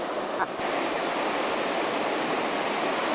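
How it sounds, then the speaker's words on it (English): River rapids with rushing white water, a dense, steady roar of churning water close by that fills the whole stretch, after a brief faint knock at the start. "Here's the rapid coming up right up here."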